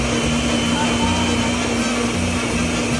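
A blender grinding chipotle chiles with chicken broth, a loud steady whirring hum with a constant motor drone that holds unchanged throughout.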